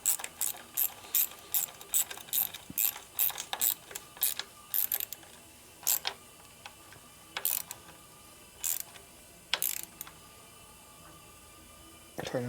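A hand ratchet fitted with a 7/16 socket tightens a bolt on a 1972 Harley-Davidson XLCH Sportster ironhead, giving bursts of rapid clicking followed by pauses and then a few slower, separate clicks.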